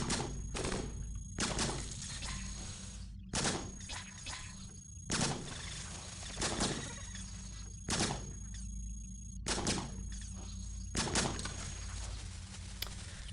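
Shotgun blasts in the video game Cogmind: a series of sharp, loud reports spaced roughly a second apart, each with a brief ringing tail over a steady electronic hum, with no talk.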